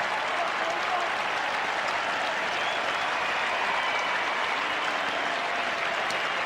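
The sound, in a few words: football stadium crowd applauding a player leaving the field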